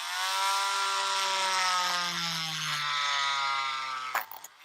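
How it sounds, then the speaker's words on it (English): A power drill bores through a toy with a loud, steady, close whine whose pitch sags gradually as it cuts, ending in a sharp crack and rattle near the finish, with no voices. "We're gonna go ahead and drill through here again."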